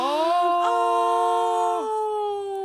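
A dog howls in a long, sustained, tonal note that holds steady, then slides and settles lower near the end, loud and close with no talking.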